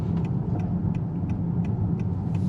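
A Honda Accord with a Type R turbo setup runs with a quiet, steady low engine hum and a subdued exhaust note, close by and with no talking.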